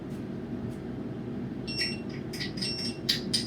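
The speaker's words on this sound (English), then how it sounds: "That's the timer for the chicken." Short high electronic beeps from a kitchen timer for oven-fried chicken sound in a cluster during the second half, faint and repeated over a steady low kitchen hum.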